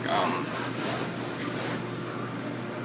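Scrubbing brush rubbing across a wall coated in a half-degreaser, half-bleach cleaner, a steady close scraping swish in repeated strokes that fades out near the end.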